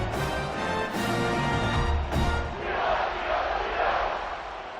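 A stadium crowd roars after a touchdown in a football video game, loud and sustained, with a few sharp broadband bursts early on before it settles into a broad cheering wash.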